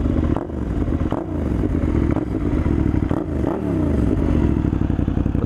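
A Suzuki SV650 V-twin motorcycle engine revs up and down repeatedly, with a close, loud, tinny, light-bass tone and clattery mechanical texture throughout.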